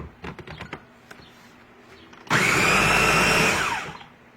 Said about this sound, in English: We're going to put it in our big blender.